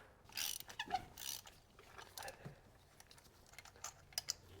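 A ratchet with a 5/8 spark plug socket on a deep extension clicks and clacks while breaking spark plugs loose on a 2013-2021 Chevy Trax, with faint, close mechanical taps and a quiet voice.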